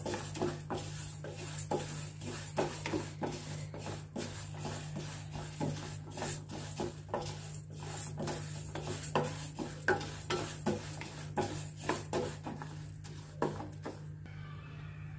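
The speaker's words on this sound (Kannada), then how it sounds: "ಇದಕ್ಕೂ 1 ಡ್ರಾಪ್ ಎಣ್ಣೆ ಹಾಕ್ಬಿಟ್ಟು ಹುರ್ಕೊತಾ ಇದ್ದೀನಿ." Urad dal roasting in a drop of oil in a pan, with dense, steady scraping and stirring strokes and a soft sizzle running through the whole stretch. Close and fairly loud, with no talk.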